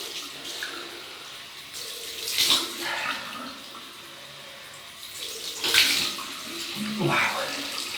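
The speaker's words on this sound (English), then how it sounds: "Cold water rinse." Cold tap water running into a sink to rinse after a wet shave with coal tar shaving soap and a Delta Echo adjustable razor, a steady splashing flow with louder surges as hands move through it, and a voice heard faintly.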